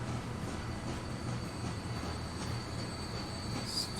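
A freight train runs steadily in the simulation game Transport Fever 2, a continuous low rumble with faint wheel noise and a thin high whine, even and unbroken throughout.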